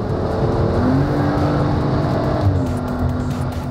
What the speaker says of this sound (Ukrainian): А послухайте, як співає ця рядна шістка.